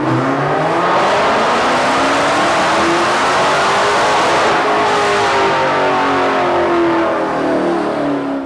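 A supercharged Hemi V8 in a Dodge Challenger revs up hard and holds a loud, continuous roar close by, with its pitch rising and falling across several sustained revs.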